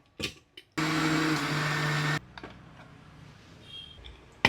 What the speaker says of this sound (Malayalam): ഇനി നമ്മൾ നേരെ ഒന്നും കൂടി അരയ്ക്കാൻ പോവുകയാണ്